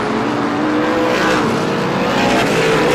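Race cars at Star Speedway during an SBM 125 feature roar past loudly and steadily, with engine drone filling the whole stretch and no talk over it.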